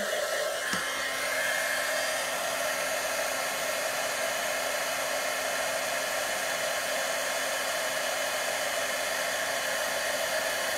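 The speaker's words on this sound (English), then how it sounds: "I'm gonna let my heat tool really get hot before I put this to the embossing powder" A heat tool warming up for embossing powder blows a loud, steady whirring hiss of hot air, constant and close throughout, with a brief click near the start and no talking.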